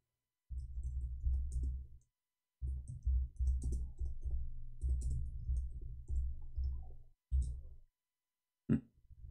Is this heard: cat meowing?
no